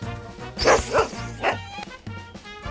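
A dog companion in an indie video game barks several times in quick, close yips and bow-wows, fairly loud with short gaps between them and no talking.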